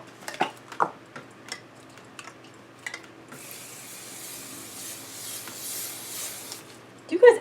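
Hairspray sprayed from a can in a get-ready-with-me routine: a few scattered taps and clicks first, then one steady hissing spray lasting about three seconds, close and moderately quiet.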